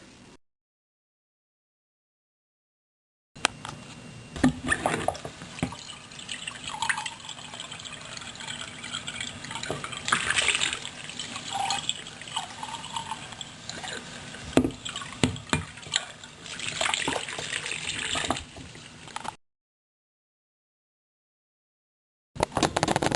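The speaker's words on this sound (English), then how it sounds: "you're going to need to rinse your mug." Water splashing and trickling as a coffee mug is rinsed, close and uneven with sloshes and gushes, starting after a moment of silence and stopping short before the end.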